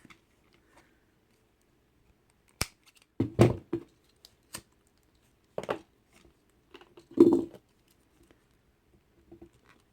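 Scissors snip through string while making a clover kandi knot craft, giving sparse, close, crisp cuts in short clusters, alone with no talk.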